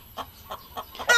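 Chickens clucking in a chicken coop on a farm that produces chicks and eggs, with several short, evenly spaced clucks at moderate distance and a louder squawk at the end.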